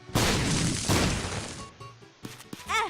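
Bomb explosions in The Binding of Isaac: Afterbirth, two loud booming blasts in quick succession that crash and decay over a second or more, then a short squelchy effect and a rising chirp-like game sound.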